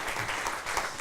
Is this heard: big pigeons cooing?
no